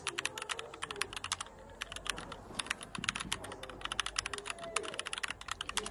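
Text is typed on a computer keyboard in a steady stream of crisp, close key clicks with brief irregular pauses, over a faint room hum.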